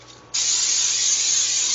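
A can of cooking spray releases a sudden, loud, steady hiss into a pan on high heat, a single continuous burst lasting about a second and a half with no talking.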